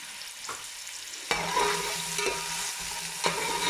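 Onion and garlic fry gently in oil with a steady close sizzle, punctuated by a few sharp utensil taps and stirs against the pan, no speech.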